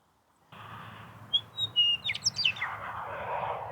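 Several birds chirp and sing outdoors along a floodway near a forest edge on an evening bike ride, bright short calls and trills rising over a steady low background hum.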